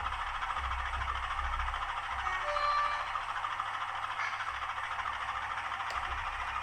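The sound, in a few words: model shunter locomotive moving on layout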